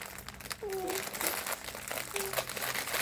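A Labubu blind box package is unwrapped, its plastic crinkling and rustling close by while children talk excitedly over it.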